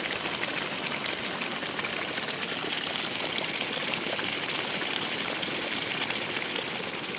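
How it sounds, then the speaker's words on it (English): Boiling water at a volcanic sulfur vent on Mt. Apo hisses and bubbles steadily, a dense unbroken rushing wash heard alone at moderate level. "the one over there is boiling water"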